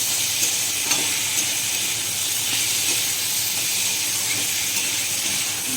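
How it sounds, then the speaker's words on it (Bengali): Ridge gourd and potato with salt and turmeric being stirred in a pan, a continuous even sizzle and hiss with faint scattered utensil taps throughout; no speech. "তো এটা দিয়ে আমি আবার একটু নেড়ে চেড়ে নেব।"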